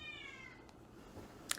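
An indoor house cat lets out a short, wavering meow at the start, with one sharp brief sound near the end; calling toward other cats outside.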